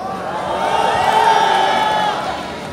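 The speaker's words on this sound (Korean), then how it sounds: "박수 부탁드립니다." A crowd at an outdoor candlelight rally claps and cheers in a loud, sustained swell of applause and shouts that rises and then eases off.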